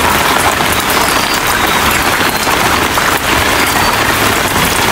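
Heavy typhoon rain pouring steadily onto surfaces, a loud, dense, unbroken hiss that fills the whole stretch with no voices.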